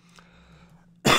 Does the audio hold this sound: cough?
yes